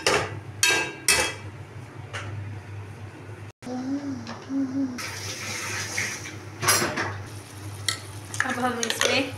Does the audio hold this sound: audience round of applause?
no